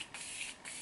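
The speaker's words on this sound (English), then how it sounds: "So this is the Continuous Setting Spray. Let me even use it." Continuous makeup setting spray misted from a bottle in a few quick, soft hissing bursts, close and fairly quiet, with no talking.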